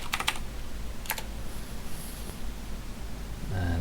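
A computer keyboard being tapped as a password is typed, a short burst of quick keystrokes followed by a second brief cluster, close and clear over a steady low room hum.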